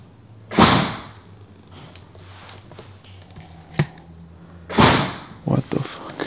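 A door bangs in a house during a haunted-doll spirit-trapping session, two sharp loud slams a few seconds apart with smaller knocks between, over low room hum; speech is faint or absent.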